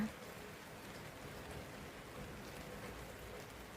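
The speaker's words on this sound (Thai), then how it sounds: "ฝนตกยังไงก็ต้องได้ออกไปเก็บผัก" Rain falls outside in a soft, even hiss that holds steady and faint the whole time, with no distinct drops or other sounds standing out.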